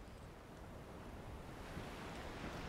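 Steady sea waves wash against a boat being steered across open water in A Plague Tale: Requiem, a continuous broadband rush with light wind, alone without voices.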